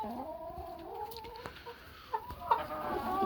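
Hens in a mixed flock of commercial browns cluck in low drawn-out tones, broken by a few sharp squawks and brief scuffling sounds nearby.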